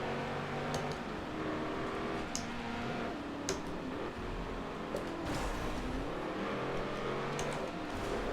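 Race cars in a Forza Motorsport 7 race, a steady drone of engines whining and shifting pitch as several cars run together, with faint ticking clicks above and no one talking.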